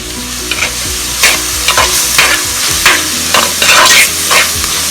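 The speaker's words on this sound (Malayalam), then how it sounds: "സബോള ഇവിടെ ഇരുന്ന് ഇടയ്ക്കിടയ്ക്കൊന്ന് ഇളക്കി കൊടുത്താൽ മതി കേട്ടോ" Onions fry in a hot pan for squid masala, giving a loud, close sizzle broken by repeated scraping strokes of a spoon as they are stirred, with no voices.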